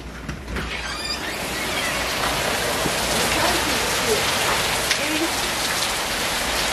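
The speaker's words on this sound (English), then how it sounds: "it is raining as hard as hail outside. It's storming really bad here." Heavy storm rain pours outside, hard enough to sound like hail, a loud dense continuous roar of drops hammering surfaces with no let-up for the whole stretch.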